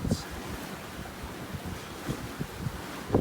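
A sailboat under full sail with no engine, running in sunshine through the outer leads, with a steady rush of wind and soft, irregular wave slaps against the hull at moderate volume.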